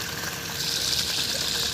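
A repaired BLDC motor pump on a workshop testing panel pushes water out under strong pressure, a steady, loud, close gushing rush that holds even throughout.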